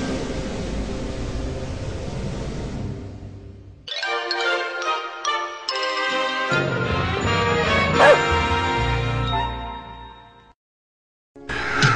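A vampire dog in a French-language video game barks in quick yips and then whimpers, with jingling tones and a noisy hiss, loud and close, after a brief stretch of static.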